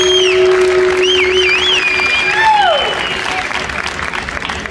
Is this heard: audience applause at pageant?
yes